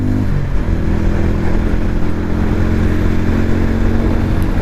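A Harley-Davidson X440 motorcycle engine revs up at the start, then holds a loud, steady drone on a top-speed ride, heard close without any talking.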